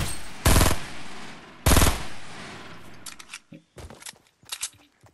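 Rapid gunfire from a shield gun in a multiplayer shooter game, two long loud bursts followed by several shorter scattered volleys, close and sharp with no talk over them.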